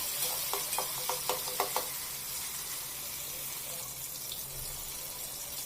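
Finely chopped tomato frying in a small amount of oil in a pot on a gas stove, a steady hiss with a short run of soft stirring knocks early on, then a continuous even sizzle.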